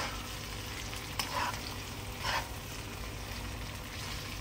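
Gobi manchurian stir-fried in a pan for a home dinner: a steady close sizzle and hiss of frying with a couple of brief louder bursts as it is tossed or stirred, no talking.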